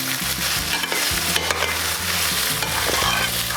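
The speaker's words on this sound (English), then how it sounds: "And right now we'll be introducing our stir-fried peppers with the onions. Going to give this a good stir." Stir-fried peppers and onions stirred in a pan, a continuous sizzle with busy clattering scrapes and knocks of the utensil throughout, close and fairly loud, no voices.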